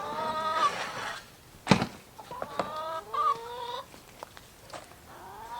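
Several chickens cluck and squawk nearby in irregular bursts, with sharp calls over low murmuring clucks and no voices.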